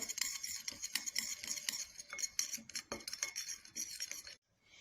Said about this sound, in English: I'm going to add 1 spoon of cinnamon powder to the lemon juice and stir very well.